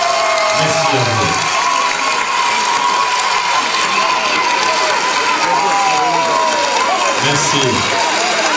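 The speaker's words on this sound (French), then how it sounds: "On applaudit Charlie et Sylvie." Wedding guests cheering and applauding the couple, a loud, busy wash of clapping and shouts with music and voices mixed in throughout.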